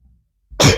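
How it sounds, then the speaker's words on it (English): A single sharp sneeze bursts out close and loud after a short near-silence, then trails off quickly. "needed to sneeze"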